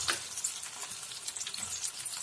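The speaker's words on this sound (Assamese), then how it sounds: "এইখিনি গোটেইখিনি ৰঙচুৱাকৈ ভাজিব লাগিব।" Maggi Manchurian mixture with egg sizzles and fries steadily in a pan, a close, soft crackle continuing throughout with no voices.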